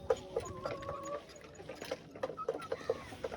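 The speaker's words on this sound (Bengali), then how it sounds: "অনেক ধরনের ভালো ভালো জাতের কিছু মুরগি আছে" Chickens of several fine breeds cluck at a poultry farm in a rhythmic series of short, close clucks, with faint background noise underneath.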